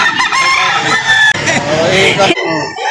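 A 10-month-old Rhode Island Red breeding rooster at a poultry market in Lipa, Batangas crows loudly and close, one long drawn-out call followed by a brief clucking tail.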